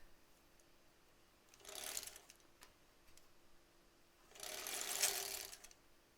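A domestic sewing machine stitches face masks in two short runs, the second longer than the first. Each run is a whirring, mechanical burst separated by quiet pauses, heard close with no talking.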